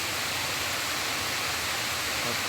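Steady rushing of a stream flowing near a waterfall at a forest temple, a broad continuous wash of water noise with no voices.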